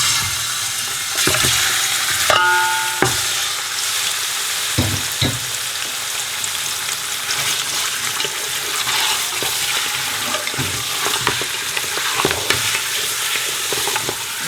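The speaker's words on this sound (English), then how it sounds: "now in the same oil we need to fry this meat" Lamb meat frying in oil with ginger garlic in a wide pot (dekchi), a steady dense sizzle with occasional stirring clanks and scrapes, close and continuous throughout.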